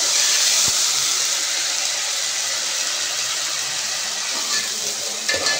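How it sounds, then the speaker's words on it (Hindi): A tablespoon of ginger garlic paste sizzles in hot oil, a loud, continuous close-up hiss with a few faint clicks of a spoon, no voices over it. "ये अदरक लहसुन डाल दिए।"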